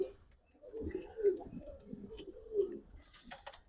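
Low, soft cooing from Giribaz high-flyer and racing pigeons repeats in a loose rhythm, close by, with faint chirps and rustling in the background.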